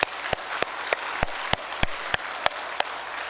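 Sharp, evenly spaced claps ring out about three times a second in a church service, a single steady rhythmic clapping rather than a crowd's roar.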